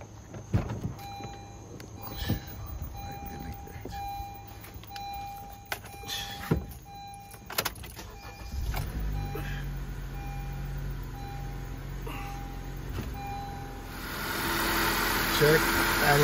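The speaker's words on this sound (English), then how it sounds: "I'm going to start my engine." A car engine cranks and catches about halfway through, then settles into a steady low idle that swells toward the end, after a quiet stretch with faint electronic tones from a plugged-in battery tester.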